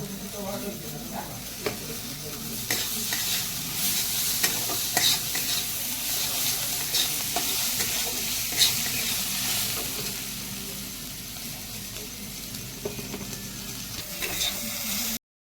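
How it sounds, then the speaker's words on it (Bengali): A cauliflower filling with coriander leaves is stirred in a hot pan, giving a continuous sizzle broken by scraping spatula strokes and occasional light knocks, close and steady throughout. "ধনের পাতা দিয়ে নেড়ে চেড়ে নাবিয়ে নেব"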